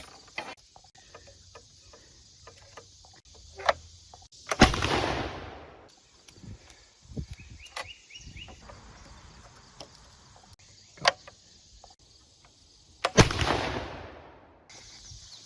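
Two loud gun blasts from a wall gun loaded with squib rounds and a 200 grain base charge, spaced well apart, each followed by a short decay, amid outdoor clicks, handling noises and insect chirps.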